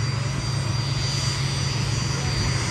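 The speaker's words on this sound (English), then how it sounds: "The plane!" An airplane engine drones steadily at an airshow in Gatineau-Ottawa, a loud, continuous low roar that fills the whole stretch while spectators chatter nearby.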